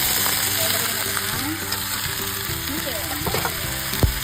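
Chicken sautéing with garlic and onion for adobo, a loud close crackling sizzle with spoon scrapes and clinks, and a voice murmuring underneath, ending in a sharper knock.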